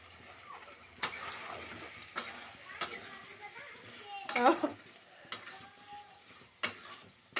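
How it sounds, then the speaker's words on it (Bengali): Meat cooking in a pot being stirred, with soft sizzling under scattered scrapes and clatters of a utensil against the pot, plus occasional sharper knocks and faint voices in the background. "দেখুন মাংস রান্না হচ্ছে আজকে।"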